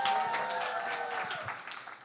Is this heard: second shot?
no